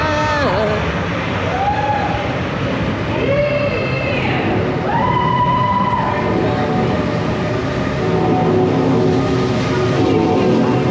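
A long Revolution roller coaster train at Bobbejaanland rumbles along steadily, with repeated rising and falling metallic squeals over a constant loud roar and some faint voices underneath.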